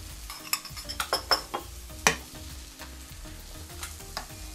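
Crushed garlic and tomato salsa sizzle gently in a pan as a utensil stirs, giving a soft frying hiss broken by several sharp clicks and scrapes against the pan.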